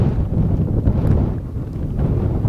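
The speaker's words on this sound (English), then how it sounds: "Little wind." Steady winter wind on Mt Whitney buffets the microphone in a continuous low rumble with gusty swells, loud and close throughout with no talking.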